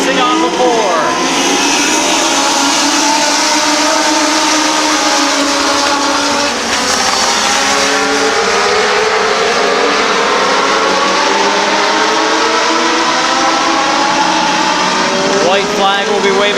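Race cars at a short-track speedway under green-flag racing, engines droning steadily and loudly with shifting pitch as the pack circles, while an announcer calls the race over the track noise.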